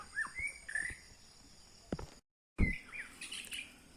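A white-rumped shama sings clear, whistled phrases with short sliding notes, fairly close, broken by a brief gap and some handling thumps, then the song resumes.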